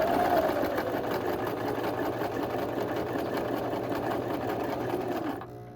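A sewing machine top-stitches around a fabric heart on a quilted pillow, running steadily and close at a fast even stitch rate for about five seconds before stopping abruptly.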